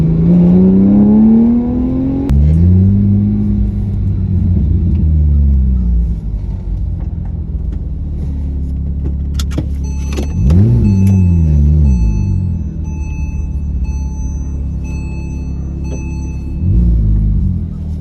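A sports car on a Ferrari rally drive, with its in-canal exhaust, drones loudly from inside the cabin, rising and falling through several revving pulls and gear changes, with a deep steady engine rumble between them.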